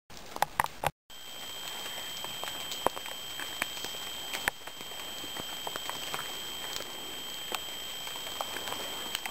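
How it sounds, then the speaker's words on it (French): Rain falling through a dense, humid forest, a soft steady patter with scattered sharper drips and taps striking leaves nearby, continuous and even after a brief break at the start. "Descendre sous la pluie"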